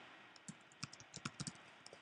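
Keystrokes on a computer keyboard entering a dog breed into an online booking form, about a dozen quiet irregular clicks in short bursts over a faint background.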